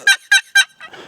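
Three loud, sharp yelping notes from a hand-operated turkey call imitate an excited hen, evenly spaced and close, followed by a softer, rougher trailing call.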